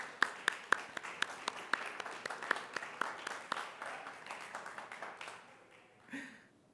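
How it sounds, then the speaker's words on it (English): A Unitarian Universalist congregation gives a round of applause, with sharp distinct claps at first, then a dense patter that fades out. A short voice follows near the end. "One more applause for Daniel."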